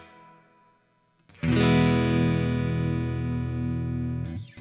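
A clean electric guitar chord rings out with lush reverb, sustaining evenly for a few seconds after a quiet pause.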